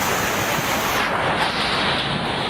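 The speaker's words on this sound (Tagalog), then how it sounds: "ang unang sasalubong sa iyo ay ang maingay na hangin at malakas na ulan" Strong typhoon wind with heavy rain in Catanduanes, a loud, steady roaring rush of broadband noise that stays constant throughout, with no voices.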